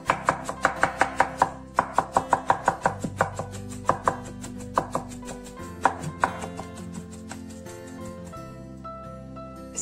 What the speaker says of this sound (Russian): Остывшую отварную капусту рубим ножом.